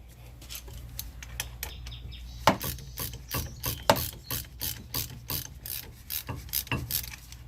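A ratchet backs out a brake caliper bolt on a Nissan: a steady run of close, crisp clicking strokes in uneven bursts over several seconds, with no talk.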